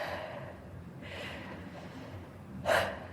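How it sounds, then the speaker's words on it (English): During a posture and form exercise session, a person draws a deep breath, with a softer inhale early on and then a sharp, close gasping intake near the end over a quiet background. "Take a deep breath."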